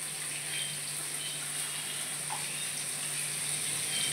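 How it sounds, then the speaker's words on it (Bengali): Water poured in small amounts into a pot of cooking moong dal with carrots, a steady soft continuous pouring hiss lasting throughout with no talking. "অল্প করে জল দিয়ে দিচ্ছি।"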